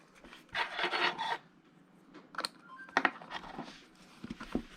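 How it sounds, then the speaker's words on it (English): A metal wheel nut is threaded onto the wheel of a Traxxas MAXX RC car during a rear hub repair: close, quiet scraping and rasping bursts with small clicks, no talking. "Stick the wheel nut on."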